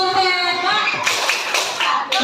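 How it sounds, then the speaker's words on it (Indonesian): Children in an Indonesian primary classroom break into brief clapping after a group presentation, a short burst of hand claps that overlaps a child's singing-like chant and voices throughout. "Kita beri tepuk hebat untuk kita semua."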